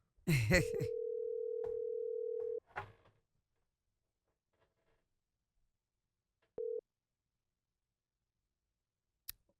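A telephone sounds a long steady tone lasting about two seconds while a call waits to be answered. After a clatter and a few seconds of near silence, a second short beep follows, quiet and isolated.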